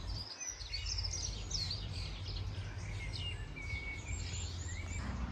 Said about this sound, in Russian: Слушайте, как птички поют.